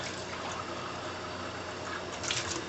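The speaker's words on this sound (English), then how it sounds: "Just rinse that out" Running tap water rinsing out a kitchen sink after bleach and antibacterial soap, a short steady splashing gush close by with no talk.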